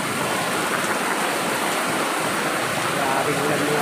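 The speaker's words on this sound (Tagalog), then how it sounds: "Lakas ng ulan." Heavy typhoon rain pours steadily, a dense, loud hiss of water hitting surfaces that stays constant throughout, with possible faint talk underneath.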